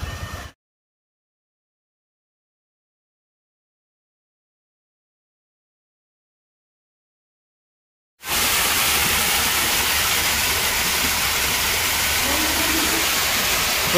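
A waterfall at a garden near a lake in Lonavala, a steady loud broadband rush of falling water filling the last six seconds after a long silent gap, with no voices over it.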